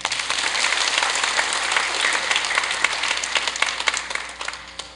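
Congregation applauding during a Korean church evening revival service, a fairly loud, dense patter of many hands with some sharper individual claps standing out toward the end.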